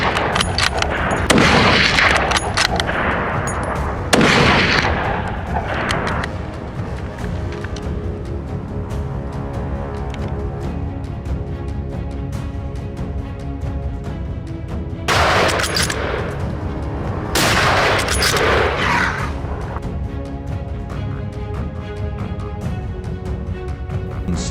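Rifle shots fired at coyotes during a hunt in northern New Mexico: several loud, booming cracks spread across the clip, some close together, over a steady wash of background noise.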